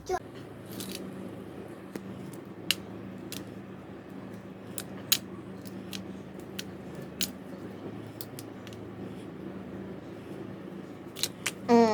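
A whole sea crab, bought at a market, is cleaned and cut with scissors: sharp, isolated snips and clicks scattered irregularly over a steady low room hum, with a louder clatter at the end.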